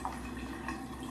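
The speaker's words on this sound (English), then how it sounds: "Let's just put this tap on, get some hot water through." Hot water runs steadily from a bathroom sink tap, a constant soft splashing hiss with faint drips, close by and heard alone without any talking.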